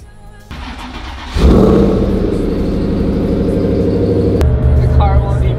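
A nearby car at a car meet starts up and its engine jumps to a loud sustained rev, holding a steady droning roar for several seconds before dropping slightly, with a person talking over it.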